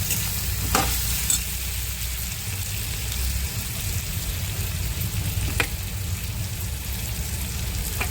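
Garlic paste sizzles and fries in a pan for a shrimp curry, a steady dense crackle with a couple of sharp clicks from a stirring utensil, and no voices.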